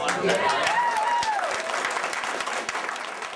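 Enthusiastic crowd applauding as Senator Chris Dodd enters a campaign event in Pahrump, Nye County, steady dense clapping with a cheer or whistle near the start, loud and continuous throughout.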